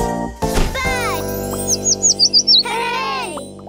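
A bird chirps in a children's animal cartoon, a quick run of five or six bright, rising-and-falling tweets in the middle, set among cartoon sound effects, swooshes and musical tones.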